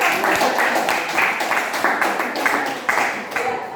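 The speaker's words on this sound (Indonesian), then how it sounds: "Tepuk tangan, mantap" Children in a classroom clap their hands together in a brief round of applause, a dense steady patter of many small hands lasting a few seconds at moderate loudness.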